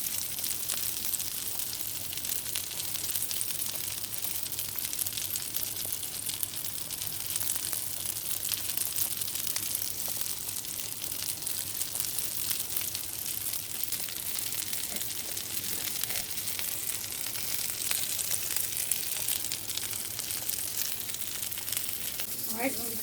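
Ground beef burger patties sizzle steadily in a hot pan beside cooking noodles, a continuous close hiss and crackle with no talk over it.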